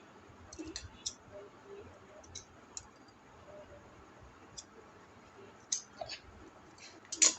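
Scissors snipping through a sewn fabric belt piece to split it in half, heard as a few faint, scattered clicks and snips over low room noise.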